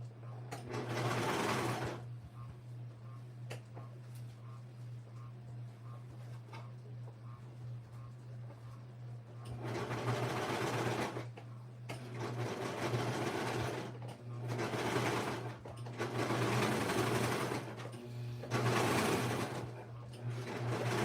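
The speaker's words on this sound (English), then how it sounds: "I'm just going to start further back, and that way it will just lock any of the other stitches into place." A sewing machine stitching a child's dress, its whirring running in several bursts of a few seconds each separated by quieter pauses, close and steady over a constant low hum.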